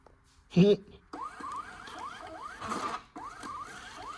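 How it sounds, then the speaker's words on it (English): A small thermal printer built into an alternator tester prints results in a quick series of repeated whirring, ratcheting strokes, close and fairly quiet, after a brief vocal sound at the start. "We've got a little printer."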